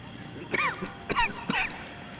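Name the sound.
character coughing in video game Saints and Sinners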